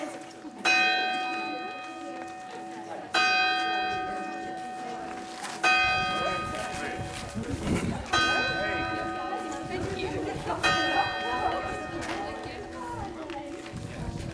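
A church bell chimes at twelve o'clock, its loud ringing strokes repeating every few seconds over a bright, lingering hum, while people murmur in the background.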